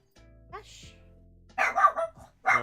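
A dog barks in the background of a live stream, with a couple of sharp barks and yips after a short whimper, mixed with a person talking and a steady electronic hum.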